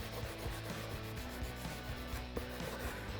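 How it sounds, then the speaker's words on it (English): Used Scotch-Brite pad rubbing the edges of a motorcycle front hub on an Aermacchi, a quiet, close scratchy scrubbing in repeated back-and-forth strokes. "This is just a little bit of used Scotch-Brite."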